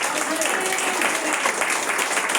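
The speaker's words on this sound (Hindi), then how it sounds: "कमाल जोर से ताली बजाइए" Loud, dense clapping from a congregation fills a church praise and worship service, steady and continuous throughout with a faint voice or two beneath it.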